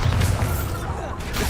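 In the video game Hogwarts Legacy, the Bombarda blasting spell goes off as a short, muffled explosive boom. It sits at fairly low volume and carries a rumbling low-end tail.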